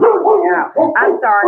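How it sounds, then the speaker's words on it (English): A pet dog barks and yips in short bursts in the background while a person talks over it, the barking mixed closely with the voice throughout. "that's my dog in the background."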